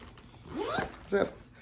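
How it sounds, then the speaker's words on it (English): A single quick zip as the zipper on a Tortuga Outbreaker travel backpack is drawn closed, a short rasping pull followed by a brief second scrape, close and clear. "You zip."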